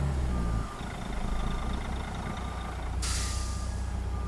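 Steady electronic reversing beeps sound from a truck hauling a walking floor trailer of wood chips in American Truck Simulator, backing at speed, with a low engine rumble underneath and a sudden hiss of air brake near the end.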